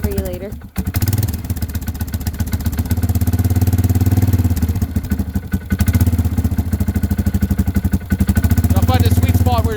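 A Polaris Sportsman 500 ATV engine idles after a cold start in winter, with a steady, loud, close-up rumble and rapid clatter that stays continuous throughout, dipping briefly only once near the start.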